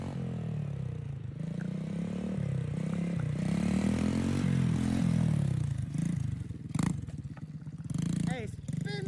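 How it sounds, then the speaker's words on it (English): A mini quad with extended control arms revs and spins a donut in the street, its small engine droning and rising close by, with scraping clatter near the end and people talking over it. "Let's see if he'll hit a donut in the street for us."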